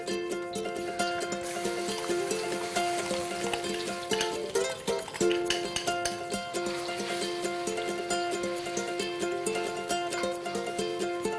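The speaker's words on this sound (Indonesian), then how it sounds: "Kita tumis dagingnya sampai berubah warna" Marinated beef shank sautéed in a pan for semur, a loud continuous sizzle with repeated stirring clatter throughout.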